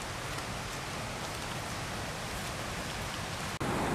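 Heavy tropical rain in Rincon, Puerto Rico pours steadily down a walkway or driveway, a loud, dense, unbroken hiss of water with a brief dropout near the end.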